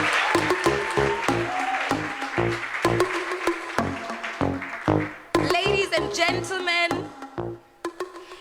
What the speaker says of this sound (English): A very huge and very, very loud applause to our main sponsors, the Okavango Diamond Company